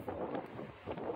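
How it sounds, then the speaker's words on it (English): Strong wind buffets the microphone outdoors at a historic trading post in Ganado, Arizona, a loud continuous rumbling roar with rising and falling gusts. "Woo, it's windy."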